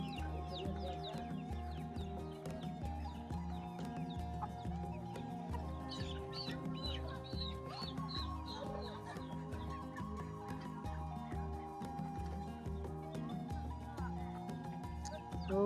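Chickens cluck softly and steadily in a rural village in northern Laos, with a rooster crowing faintly in the background and some quiet voices and ambient noise throughout.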